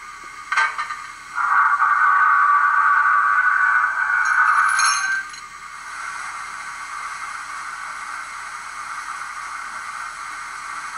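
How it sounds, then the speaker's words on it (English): A Bachmann Class 94xx model locomotive sound decoder plays its water filling sequence: a metallic clank as the tank filler opens, then a steady hissing rush of water flow that swells, clinks again, and settles into a quieter continuous trickle. "Another new feature is the water filling sequence, where you hear the tank filler open, the boom of the water crane move across, and the water flow"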